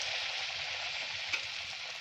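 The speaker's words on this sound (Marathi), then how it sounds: "तेल पण मस्त गरम झालेलं आहे. आता यामध्ये आपण भजी सोडून घेऊ." Potato bhaji fritters dipped in batter fry in hot oil, giving a steady, close bubbling sizzle that runs unbroken throughout, with a brief sharper crackle partway through.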